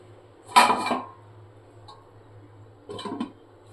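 A metal lid set onto a kadai of water: two separate clattering knocks close by, the first louder, with quiet pauses between them.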